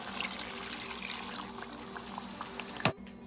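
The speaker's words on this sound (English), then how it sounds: "add in some water." Water poured into a cooking pot holding raw fish for thieboudienne, a steady liquid pour running for about three seconds before stopping abruptly, close and fairly loud with no talk.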